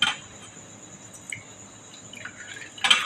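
Buttermilk poured into a soaked batter mixture for traditional taak pole, giving a soft, faint liquid trickle and a few small drips, with a brighter splash at the very end.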